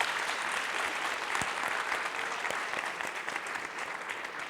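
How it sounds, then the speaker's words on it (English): A large audience at a university leadership event breaks into sustained applause, a steady wash of many hands clapping that holds at an even level from start to finish. "So congratulations and a round of applause."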